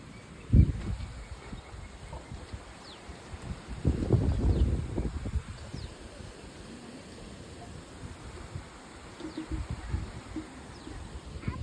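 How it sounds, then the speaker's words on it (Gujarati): Strong storm gusts buffet the microphone in rumbling bursts, one strong surge in the middle and lighter swells later, between quieter stretches. "કેટલો પવન"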